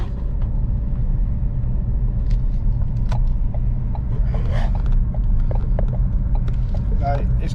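Steady low engine rumble and road noise from inside a Ford Focus ST driving on a dual carriageway in cold weather, continuous and even, with small clicks and a brief whoosh over the drone.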